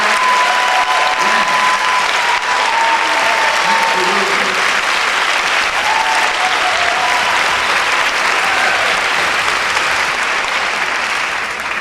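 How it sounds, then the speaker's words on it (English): An audience at a dance tribute event applauds faculty members with loud, sustained clapping that fills the whole stretch, some voices and cheers rising within it. "Could you please stand up so that we can applaud you?"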